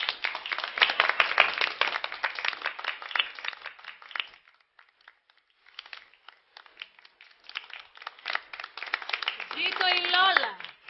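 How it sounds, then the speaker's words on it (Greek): An audience claps for a woman in a Greek TV episode, an uneven patter of applause that fades to near silence midway, swells again, and ends under a short spoken voice. "Παρακαλώ ένα δυνατό χειροκρότημα για τη Λόλα μας"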